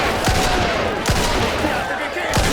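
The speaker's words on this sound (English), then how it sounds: "we're about to shoot up these enemies here" Gunfire in the Mafia II Definitive Edition video game, with about three loud, sharp shots spaced roughly a second apart over a dense, noisy game soundscape.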